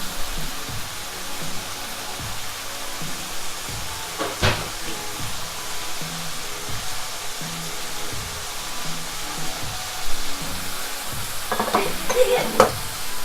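Garlic paste fries and is stirred in a pan for Thai basil pork with green beans, a loud steady sizzle with rhythmic stirring and a few sharper clinks of the utensil against the pan.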